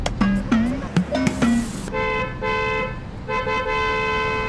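A car horn blares in several long honks with short gaps, loud and close, after a few brief squeaky sounds at the start.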